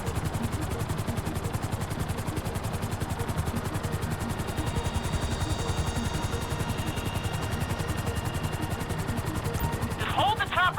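Helicopter hovering in GTA 5, its rotor producing a steady, rapid chopping drone throughout, loud and close, with a brief chirp near the end.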